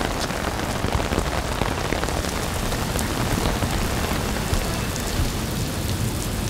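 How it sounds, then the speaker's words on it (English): Heavy rain pours down during a thunderstorm, a dense, loud, constant hiss of drops striking surfaces close by, with no break and no voices. "Hiding out from the rain. We just got buried."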